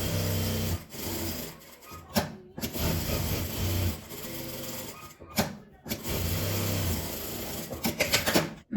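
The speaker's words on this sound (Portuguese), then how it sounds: "Vou passar uma costura em volta dele." A sewing machine stitches around a fabric pocket on a lining made from leftover fabric scraps, running in close, loud bursts of rapid needle clatter separated by brief stops.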